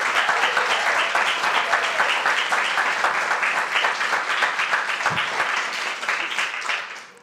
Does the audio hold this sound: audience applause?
yes